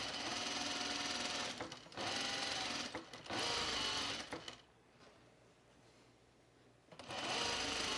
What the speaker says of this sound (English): now we can sew it from armhole to the base of the J